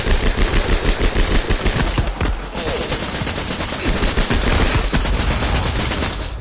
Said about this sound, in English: There's a lot of people shooting at me at this point.